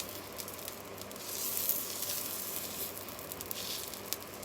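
Four sausage pieces sizzle in a pan outdoors, a soft, steady crackling hiss with occasional small pops, faint and unbroken.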